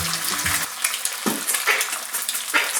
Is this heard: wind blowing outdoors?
no